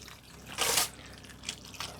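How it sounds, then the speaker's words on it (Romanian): Water poured briefly into a baking tray of meat and vegetables before it goes into the oven: one short splashing pour, close and fairly loud, followed by a couple of faint drips. "Puțină apă."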